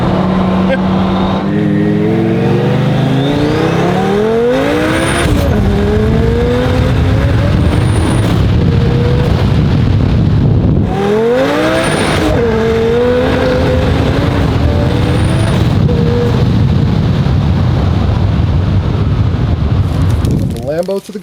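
A car accelerating hard and shifting through every gear: engine pitch climbs repeatedly, drops at each shift, then climbs again in a loud, close, rising whine.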